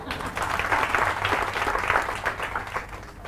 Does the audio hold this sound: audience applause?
yes